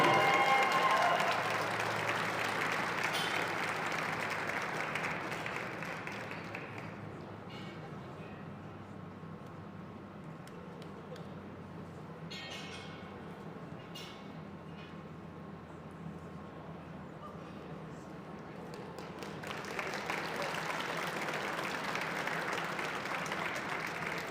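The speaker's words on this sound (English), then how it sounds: "a big round of applause for your senior male podium." Audience applauding a senior men's podium at a national lead climbing championship final, sustained clapping that swells loud at the start, eases to a steady roar through the middle and rises again near the end.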